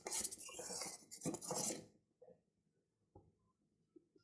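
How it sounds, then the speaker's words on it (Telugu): A spoon clinks and scrapes against a pot while stirring boiling milk for custard, a short burst of close metallic stirring that quickly fades to near silence with a few faint taps. "ఇలా పొంగినప్పుడు మన సిమ్లో పెట్టుకొని ఇలా కలుపుకోవాలి"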